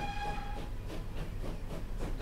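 A train pulling out of a station in the transport simulation game Transport Fever, with a sustained steady whistle-like tone at the start over low rumbling rolling noise and rhythmic wheel pulses, moderate and continuous.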